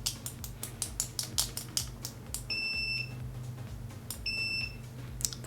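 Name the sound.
Circuit-Test DMR-6550 multimeter continuity checker beeping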